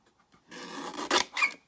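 A small paper trimmer slices along card close to the edge with a brief rasping scrape that rises to two short, sharper cuts, quiet and close.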